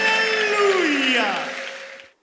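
Church congregation applauding inside a packed hall, a dense sustained wash of clapping mixed with a rising cheer and tonal music beneath, holding steady before trailing off near the end.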